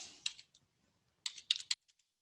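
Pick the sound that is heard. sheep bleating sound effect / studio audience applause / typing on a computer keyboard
typing on a computer keyboard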